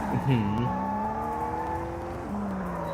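A car's engine in the video game Sleeping Dogs, humming steadily up close. Its pitch climbs and drops as the car speeds up and shifts, with a faint squeal of tires beneath.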